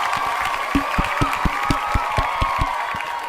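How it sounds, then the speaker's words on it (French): An audience at a student talk-show applauds a guest expert, a run of distinct, fairly evenly spaced claps over a murmuring crowd background, moderately close and steady. "Un expert. On l'applaudit."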